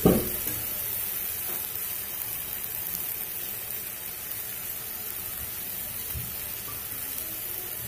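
Broad beans (avarakkai) sautéing dry in a pan with grated coconut about to go in, giving a steady soft sizzle and light stirring scrapes, faint and continuous with an occasional clack at the start.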